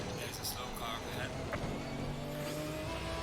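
Race car engine in Assetto Corsa Competizione, a steady, fairly quiet drone that rises in pitch as another car comes alongside and passes, with a voice talking over it.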